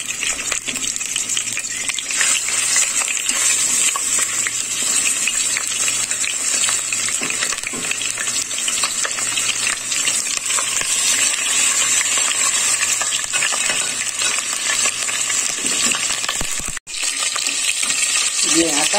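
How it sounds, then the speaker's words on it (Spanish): Chicken pieces sear in hot oil in a pan, giving a loud, steady hiss and crackle that runs almost unbroken, breaks off briefly near the end, then picks up again. "Ahora vamos a sellar el pollo."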